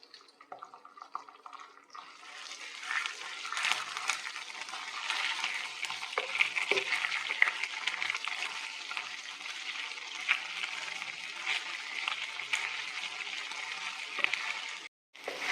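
Ginger-garlic paste sautés in a kadhai for a peas pulao, a soft, hissing sizzle that swells after a quiet start and holds steady with faint stirring scrapes.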